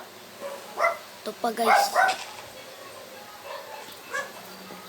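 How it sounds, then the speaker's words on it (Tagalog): Household dogs bark and yip at each other in a few short bursts, moderately close, with a person talking over and between them in an indoor room. "nagtatahulan yung aso namin"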